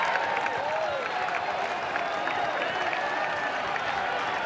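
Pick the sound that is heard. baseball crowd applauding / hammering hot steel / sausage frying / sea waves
baseball crowd applauding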